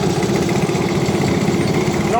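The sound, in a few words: 1942 Howard rotavator with JAP engine passing by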